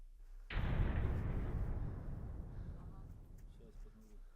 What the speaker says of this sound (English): Just a few moments later, we hear an explosion.